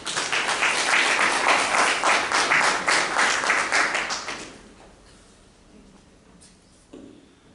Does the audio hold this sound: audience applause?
yes